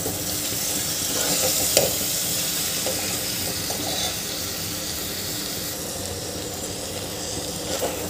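Chana dal and ash gourd pieces stirred into a Maharashtrian pumpkin curry, a steady close sizzle with soft scraping strokes of a spoon running throughout and no talk.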